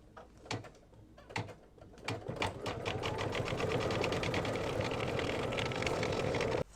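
An embroidery sewing machine stitches details on an in-the-hoop mug rug: a few separate clicks and taps first, then a continuous close rhythmic mechanical whir of rapid stitching.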